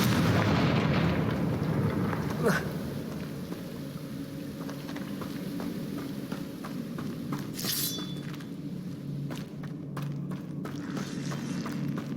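A fire spell explodes in the Hogwarts Legacy video game, a loud booming blast at the start that settles into a rumbling crackle, with a sharp burst and bright crackling later on.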